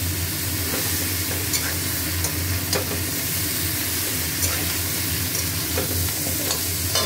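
Mixed vegetables including potato, pumpkin, flat beans, Malabar spinach stems and eggplant are stir-fried in a hot pan, giving a steady close sizzle with repeated scraping and stirring clicks throughout, no talking.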